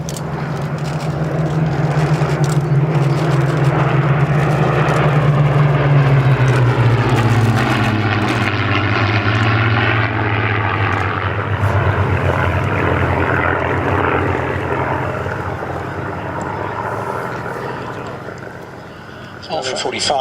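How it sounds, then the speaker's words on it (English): A Piper Cub tug aircraft taxis toward hangars on the far side of the airfield at the Shuttleworth Premiere 2019 airshow, its propeller engine droning steadily and loudly before slowly fading, while a commentator talks over it. "Dave Bramall in the Piper Cub tug aircraft. He's taxiing into the hangars on the far side."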